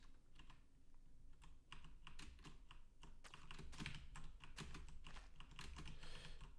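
A mechanical keyboard with clicky blue switches is typed on steadily, producing quick bursts of sharp clacks and clicks at close range with no one speaking.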